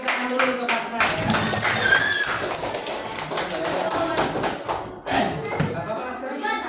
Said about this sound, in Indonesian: Boleh tepuk tangan dulu untuk Asna ya